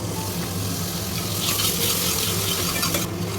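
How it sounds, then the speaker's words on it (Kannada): Garlic and tomato hitting hot oil in a frying pan: a steady, close sizzle that swells and grows busier partway through and continues without talk. "ಬಾದ್ ನಂತರ ಬೆಳ್ಳುಳ್ಳಿ ಹಾಕಿ ಆದ್ಮೇಲೆ ಟೊಮೆಟೊ."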